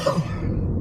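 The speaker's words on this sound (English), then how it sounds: "Forgive my coughing, I'm just getting my voice back." A single short cough from a person recovering from illness, close and fairly loud, with a brief throaty rasp fading out.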